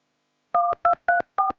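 A phone number is dialed with four clean touch-tone beeps, evenly spaced and close, in a quiet room before a call.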